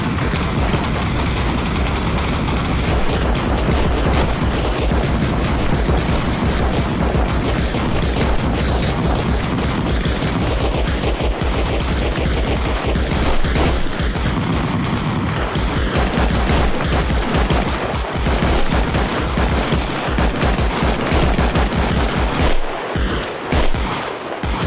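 Dense, continuous gunfire and machine-gun bursts in an ARMA Reforger battle at a checkpoint, loud and relentless, with overlapping rifle shots and automatic rattles filling the whole stretch and no pauses.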